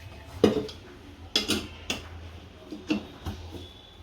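A metal pan for frying oil clanks onto a gas stove while making Gujarati chili-strip bhajiya fritters, with several sharp, close knocks and rattles spread over a few seconds and no talking.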